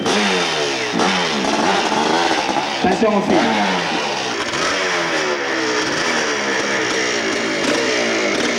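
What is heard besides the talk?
500cc motorcycle engine revving at hill climb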